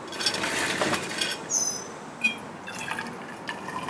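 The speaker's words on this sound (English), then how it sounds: "That's hot water for your coffee." Hot water for coffee is poured into a container, with a soft liquid flow, gurgling rises and a couple of light clinks, fairly quiet and close, without talking.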